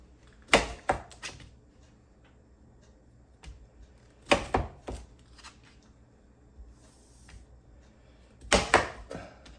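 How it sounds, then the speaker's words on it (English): A knife slices through lemons on a cutting board for ginger lemon tea, three separate sharp cutting thuds spaced a few seconds apart, close and crisp, with faint small handling noises between them. "We're just going to cut them in half,"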